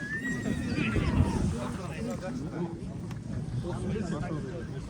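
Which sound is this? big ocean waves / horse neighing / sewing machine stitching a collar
horse neighing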